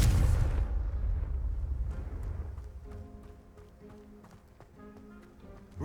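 An explosive Confringo spell in Hogwarts Legacy goes off as a loud, booming blast at the start, then fades into quieter game sounds with scattered light clicks and taps.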